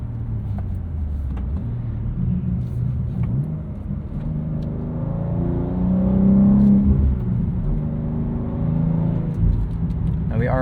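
A 2023 BMW M2 with a six-speed manual rumbles from inside the cabin, its engine revving up and down through a few rising and falling pulls, moderately loud with no talk.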